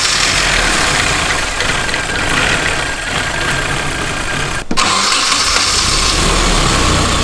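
A turbocharged Nissan KA24DE-T engine in a budget hatchback runs at a steady, loud idle with a mid-pitched rumble; a brief dropout near the middle interrupts the drone before it resumes evenly.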